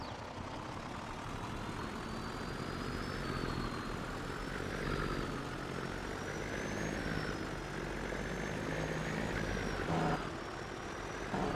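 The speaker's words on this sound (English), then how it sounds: "these trucks have the Jake brake that sounds whenever you let off the gas" Truck engine in Farming Simulator 22, a steady loud drone with rising and falling whine as the throttle changes and a Jake brake rumbling when the gas is released, continuous with no talk.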